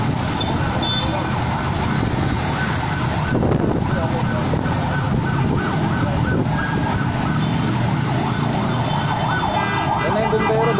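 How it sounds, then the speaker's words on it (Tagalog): A fire truck siren wails as the engine arrives at a burning taxi on a city street, its rising and falling tone sweeping over loud traffic and engine rumble, with people talking nearby. "Yan na yung bumbero, dumating na."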